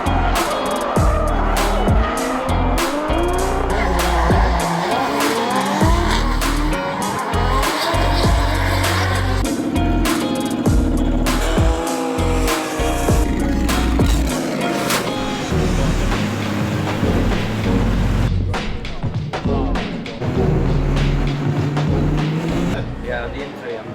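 A drift car at an Irish Drift Series round roars hard and near, shifting up through first, second and third gear with tires squealing and skidding through slides. Someone talks over the engine much of the time.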